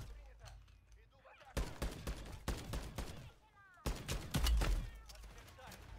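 Gunfire from a shield-carrying commando enemy in the video game Diablo 4, loud rapid bursts of automatic shots coming in two long volleys, with a voice talking over parts of it.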